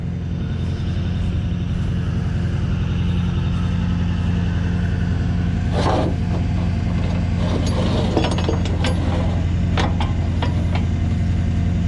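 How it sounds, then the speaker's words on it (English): A tow truck winch hauls a crash-damaged car onto the truck, a steady low mechanical drone and rumble with clicks and clanks of chain and hooks breaking through midway, continuous and close. "Wish this winch had the free spool lever on both sides."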